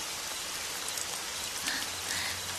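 Steady rain falling and pattering on surfaces outdoors, a dense even hiss throughout with no voices.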